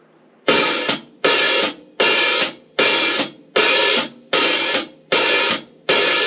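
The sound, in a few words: hi-hat hit closed but opened slightly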